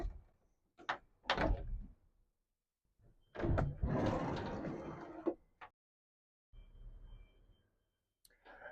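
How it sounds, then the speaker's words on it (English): Bifold doors on a Senator RH780 boat fold open, with several clunks, sliding rumbles and latch knocks in bursts separated by quiet gaps, close and moderately loud. "This customer chose bifold doors, so we'll just open them up now and we'll go inside the boat."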